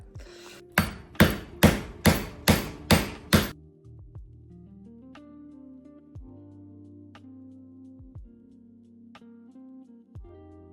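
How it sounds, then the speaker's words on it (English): Hammer driving a chisel to chip old ceramic tiles loose: seven sharp, evenly spaced metallic strikes close by, followed by quieter scattered clinks and a faint ringing tone. "we're going to use my hammer and my chisel and get into it"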